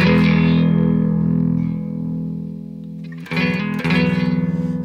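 Stratocaster electric guitar played through a Greer Royal Velvet Class A British drive pedal with the guitar volume rolled back, giving sustained overdriven chords that ring out, dip in level, then return with two fresh strums, with no talking.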